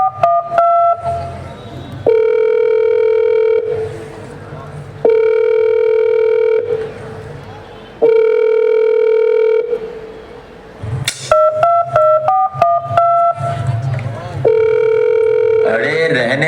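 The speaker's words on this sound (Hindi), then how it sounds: "मैं अभी उसे फोन लगाती हूँ" A telephone gives repeated steady tone bursts and dialing beeps, like a ringing line being called, in a regular on-off rhythm, loud and close.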